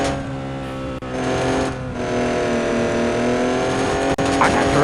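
A Dodge Cummins 4500 power truck with a 6-speed manual drives in an offroad trucking video game, its engine droning loudly and steadily with shifting pitch and brief dips.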